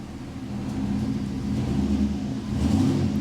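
A Chevrolet Silverado engine revving against the brakes in gear, a loud, steady low rumble that swells gradually over a few seconds, close by with no voices.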